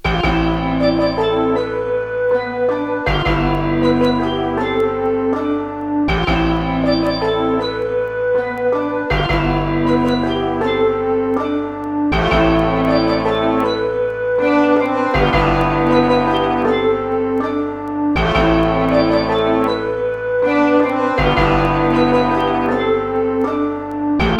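A looping vintage brass music sample plays loud and steady, a rich harmonic phrase repeating about every three seconds with sharp attacks at each restart.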